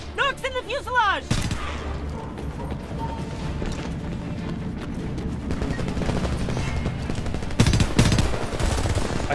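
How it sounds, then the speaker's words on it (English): Machine gun fire from the video game Homefront rattles in dense, continuous bursts, with a brief tonal game sound at the start and mechanical clatter. A louder burst comes near the end. "The sound that this gun makes is ridiculous."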